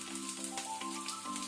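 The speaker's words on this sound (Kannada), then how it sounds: "ಸ್ವಲ್ಪ ಆನಿಯನ್ ಈರುಳ್ಳಿ ಪಿಂಕ್ ಆಗೋ ತನಕ ಫ್ರೈ ಮಾಡ್ಕೊಳ್ಳೋಣ" Chopped onion, curry leaves, garlic and dry red chilli fry in hot oil for tomato chutney, giving a soft, steady sizzle with faint tonal sounds in the background.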